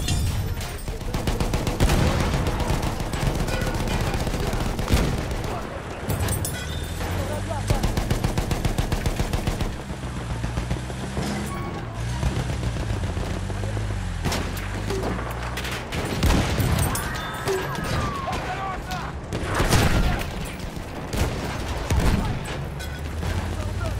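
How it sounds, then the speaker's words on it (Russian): Battlefield 1 battle on the Galicia map, with enemy machine gun fire rattling in rapid bursts among scattered gunshots and heavy booms, while people talk over the noise. "Вражеский пулемет! Вон там!"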